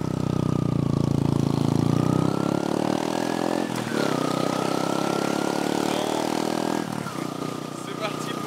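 A motorcycle engine runs steadily and close in the Dominican Republic, a continuous loud drone with a slight rise in pitch and a few brief shifts, filling the whole stretch.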